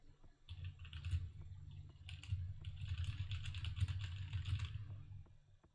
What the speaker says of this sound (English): You guys want to hear the keyboard sound?